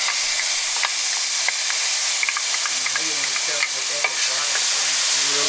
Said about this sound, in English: I am going to proceed with cooking some garlic.